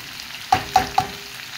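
Corned beef and potatoes frying in a pan are stirred with three quick scraping strokes over a soft background sizzle, close and brief.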